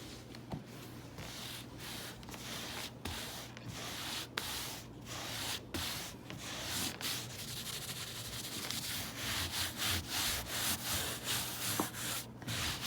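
Steady scrubbing and rubbing of dirt worked by hand into a carpet on the floor, continuous brushy friction with repeated strokes, close and alone without talk.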